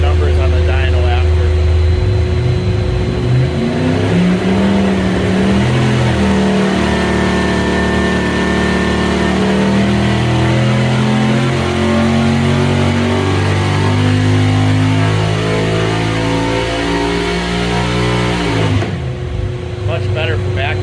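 A 489 big block Chevy V8 running on a dyno with the exhaust removed, a loud, continuous open roar that climbs steadily in pitch as the revs rise, then cuts off sharply near the end.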